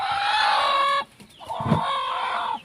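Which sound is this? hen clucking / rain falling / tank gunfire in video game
hen clucking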